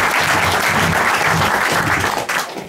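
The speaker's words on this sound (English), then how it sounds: "So, a round of applause." Loud, dense audience applause in a hall after a musical performance, continuous wash of clapping across the whole short stretch.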